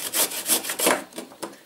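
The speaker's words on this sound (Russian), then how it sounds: "натираем морковь на терке" A carrot rubbed against a kitchen grater, several quick rasping strokes in an uneven rhythm, close and fairly loud with no talk.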